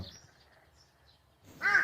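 A crow in an animated story gives one loud, harsh caw near the end, following a stretch of near silence with faint background sound.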